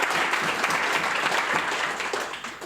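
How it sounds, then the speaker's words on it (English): Audience clapping for a panel of speakers at a smart grids and micro grids discussion, a dense steady burst of applause from a crowd that holds for almost three seconds before starting to taper. "let's give all our panellists a clap before we start,"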